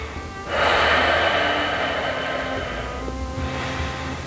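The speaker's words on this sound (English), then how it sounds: "Ujjayi breathing." Audible ocean-like Ujjayi breath during a hatha yoga pose, a loud, broad airy rush that swells in at about half a second, holds steadily, then eases and returns, close to the microphone with no talking.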